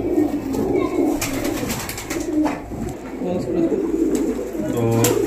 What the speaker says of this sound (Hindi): ये गोल्डन इमाम दीन की नस्ल में से कबूतर है ये